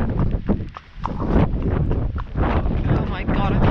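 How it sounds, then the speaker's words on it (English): Strong wind buffeting the microphone during a horse ride on a road hack, a loud, gusty rumble throughout, with a voice and faint hoof clops beneath. "Oh my God, I can't believe this wind."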